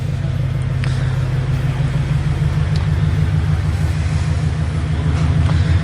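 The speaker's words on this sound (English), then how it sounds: "Definitely has more of a mature tone right now with the dual resonated front pipe." A Subaru BRZ exhaust with an HKS dual resonated front pipe rumbles at a steady idle, a deep, loud, even drone that carries throughout with no voices.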